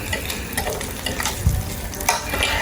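Boiled potatoes reheating in a pan, a close, continuous sizzle with scraping and stirring noises and occasional light knocks against the pan.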